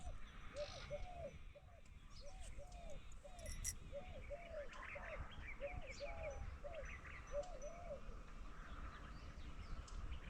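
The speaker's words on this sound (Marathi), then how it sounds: "पक्ष्यांचा चिवचिवाट आणि अनेक प्रकारचे पक्षी सगळ्यांचा आवाज कानावर पडतात" Faint morning birdsong on a farm at dawn: one bird repeats a short call at a steady rhythm while other birds chirp softly in the distance.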